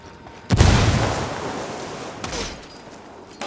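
A frag grenade explodes in the video game Ghost Recon Wildlands, one loud sudden boom followed by a rumbling decay, then a second, fainter thud near the end.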